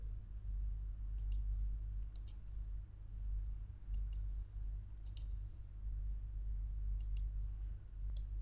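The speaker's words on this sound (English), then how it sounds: "right click on this small square to remove outline" A computer mouse clicks sharply about six times, spaced roughly a second apart, over a low steady hum.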